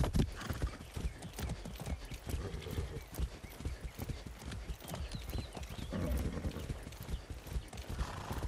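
A horse's hooves gallop in rapid, rhythmic clip-clops across the ground in the video game Far Cry 6, steady and fairly quiet throughout, with faint snorting mixed in.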